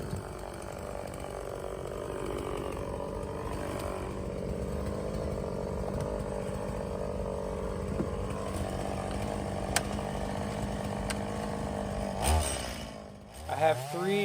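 A chainsaw drones steadily at a distance, its engine holding a constant pitch while cutting logs into firewood, ending with a few clunks and rustling handling noise.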